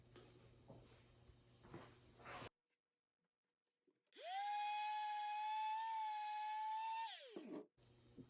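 Palm sander roughing up a metal part for shoulder strap assembly: a loud, steady high-pitched electric whine starts up, runs evenly for about three seconds, then winds down after a stretch of near silence.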